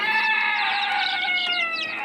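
A Silkie rooster crows once in a drawn-out, strained call lasting a couple of seconds, loud and close, with faint chirping in the background.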